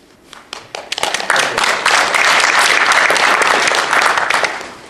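Audience applause at a presentation on heroin recovery: scattered claps at first that quickly swell into loud, sustained clapping before easing slightly at the end.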